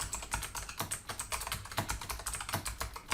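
Quick, uneven bursts of clicking from a computer keyboard as code is typed, crisp close keystrokes in short runs with brief gaps between them.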